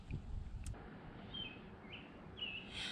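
A small long-tailed warbler gives a few thin, high chirps, faint and spaced apart against a quiet outdoor garden background.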